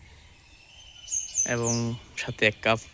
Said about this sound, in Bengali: বিশেষ করে যখন এই যে পাখির কিচিরমিচির কিছুটা শুনতে পাচ্ছেন আশা করি